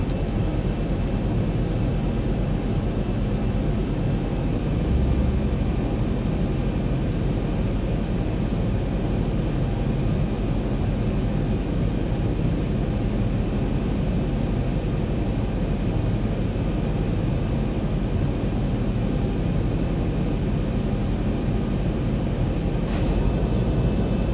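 Boeing 737 jet engines on final approach in the X-Plane 11 flight simulator, a steady broadband roar with a low rumble that holds loud and constant throughout, with a faint tone shift near the end and no voices.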